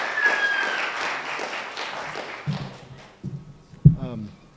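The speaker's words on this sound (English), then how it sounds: "So, round of applause, we're having a concert in here tonight." Audience applause at a Greeley West high school strings concert: broad clapping for a couple of seconds that fades out, followed by a few thumps and a voice speaking nearby.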